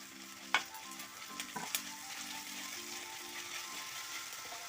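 Ginger-garlic paste fries in a pan for a chicken thoran, giving a soft continuous sizzle with a few light scraping stirs near the start, fairly quiet and with no voices.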